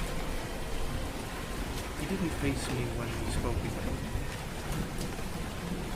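Steady rain falls continuously, with low rumbles of thunder rolling underneath, while someone narrates over the storm throughout.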